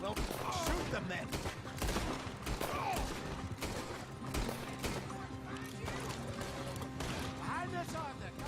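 Dense gunfire rattles in the Western video game Red Dead Redemption 2, with rapid overlapping shots, horse hooves and crashes, and characters shouting over a loud, busy battle.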